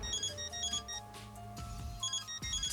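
A phone ringtone in a video game plays a bright repeating melodic pattern in short bursts, moderately loud, with no talking over it.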